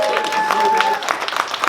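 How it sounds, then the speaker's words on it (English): Convention panel audience at Baltimore Comic Con clapping for the sign language interpreters, scattered applause rising under a voice still talking over it. "Do me a favor and clap it up for our ASL,"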